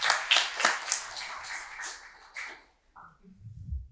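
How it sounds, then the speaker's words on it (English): An audience claps after a tech presentation, with a burst of distinct, fairly close hand claps lasting a couple of seconds before fading into quiet and a low voice. "First of all, a round of applause."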